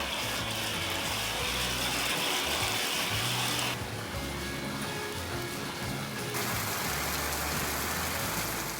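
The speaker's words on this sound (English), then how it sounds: "now it's hailing and pouring rain" Heavy rain and hail roar steadily throughout, a dense broadband downpour with a low rumble underneath, loud and close with no talking.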